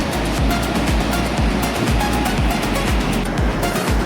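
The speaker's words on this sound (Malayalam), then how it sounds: "പാർവതി റിവർ അതിമനോഹരമായിട്ട് ഒഴുകിക്കൊണ്ടിരിക്കുകയാണ്" The Parvati River in Himachal Pradesh rushes past, heard up close as a loud, continuous roar of churning water with deep rumbling surges and no voices.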